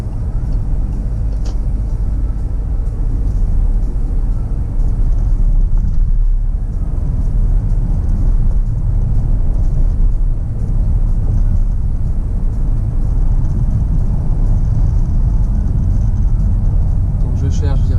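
A car drives through traffic, heard from inside as a loud, steady low engine and road rumble that barely changes over the whole stretch.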